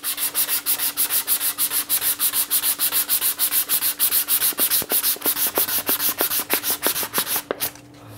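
Rhythmic back-and-forth scratching of 180-grit sandpaper on the wooden edge of a guitar fretboard, quick regular strokes that run steadily, then slow and stop near the end.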